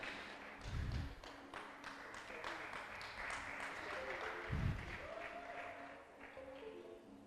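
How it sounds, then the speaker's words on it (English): An audience at a school essay, oratory, poster and performing arts competition applauds, steady clapping carried along with a few low thumps near the microphone, held at moderate level throughout. "I want to give Mr. Chen a round of applause and invite him to the stage"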